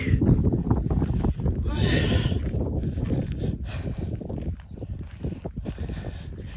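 Outdoor wind gusting across the microphone, low rumbling buffets that rise and fall irregularly, close and fairly loud with a voice speaking over it.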